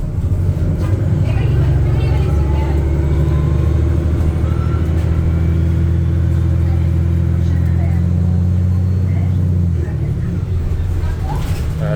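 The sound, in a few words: STM Montreal hybrid bus engine during ride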